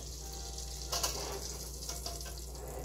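Bacon frying in a pan for eggplant and shrimp adobo, a steady soft sizzle running throughout with faint clinks and a brief rise of crackle near the middle, close and fairly quiet.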